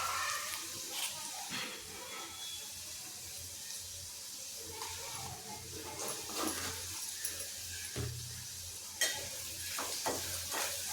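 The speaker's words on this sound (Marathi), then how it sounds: "हिंग टाकून छानपैकी मिक्स करून घ्यायचं आणि कांदाही छानपैकी भाजून घ्यायचा" Onion roasts in a pan with asafoetida, giving a low, steady sizzle broken by intermittent stirring scrapes and a few sharper knocks, close but fairly quiet.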